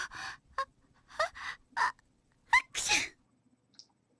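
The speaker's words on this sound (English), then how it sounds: "You just sneezed right now." A young female character sneezes in a Japanese visual novel game. A short series of sharp breathy gasps and bursts is separated by pauses, ending with a stronger sneeze, close and clear against silence.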